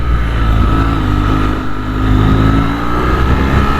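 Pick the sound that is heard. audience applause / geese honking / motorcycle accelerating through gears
motorcycle accelerating through gears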